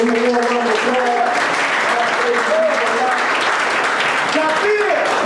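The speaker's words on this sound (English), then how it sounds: "Let's give him a warm round of applause." A loud crowd at a Nation of Islam gathering applauds to welcome a minister entering the room, dense sustained clapping throughout with voices calling and cheering over it.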